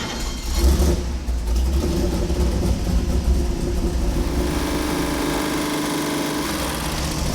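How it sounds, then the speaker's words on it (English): A 454 big-block V8 in a Monte Carlo build runs on an engine dyno, a loud, continuous rumbling idle with a heavy low throb and no talking. "we're going to put the 454 back on the Dyno"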